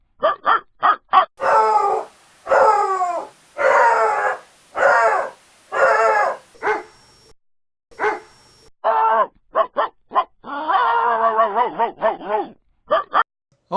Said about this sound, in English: Spencer, how many dogs are in that playroom anyway?